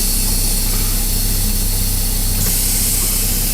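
A 2017 Mack Pinnacle semi truck's diesel engine, with an automated manual transmission, idles close by, a loud, steady low rumble with a constant hiss layered on top and no voices.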